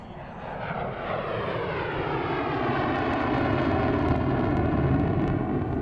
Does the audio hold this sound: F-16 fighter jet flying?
yes